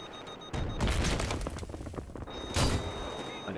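Gunfire rattles through a Battlefield 3 mission: a dense burst of shots breaks out suddenly, followed by scattered cracks and a second loud blast, all close and loud with no pauses.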